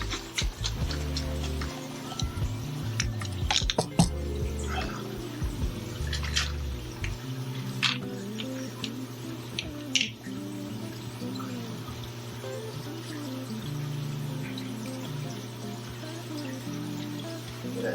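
Small drips and liquid squirts from a pipette dosing into a 10 gallon aquarium, light clicks and ticks over a steady low hum of tank equipment.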